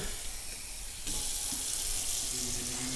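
Water runs steadily from a tap into a roasting pot holding a pot roast, a close, continuous hiss and splash with no talking.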